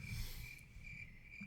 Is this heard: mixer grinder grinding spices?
no